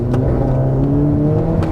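A VW Caddy fitted with a 360 CV Golf GTI engine accelerates hard, giving a loud, close, continuous engine drone with strong steady tones throughout.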